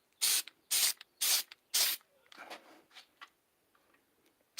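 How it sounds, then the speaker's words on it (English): Short bursts from a spray can coat clawfoot tub shower curtain rings: four strong hissing blasts in a row, then several softer, shorter puffs, close and clear in a quiet room. "Got to spray this quick and fast."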